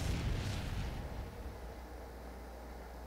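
A time bomb explodes in a video game, one heavy boom at the start that rumbles and fades into a low, quiet tail.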